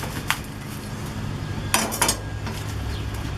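A knife slicing food against a dish for lumberjack tacos, a few sharp clinks and scrapes of metal on the plate, close and brief, over a low steady background hum.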